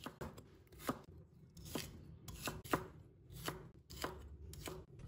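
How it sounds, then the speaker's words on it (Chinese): Celery stalks sliced diagonally with a knife on a cutting board: a steady run of about ten crisp chops in an even rhythm, close and clear with no talking. "斜刀把它切成片。"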